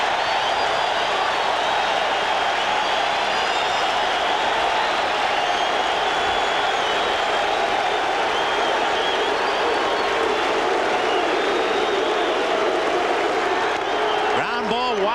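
A large baseball stadium crowd at a 1986 World Series game roars and applauds steadily and loudly from far off, a dense wash of sound that goes on the whole time under faint commentary.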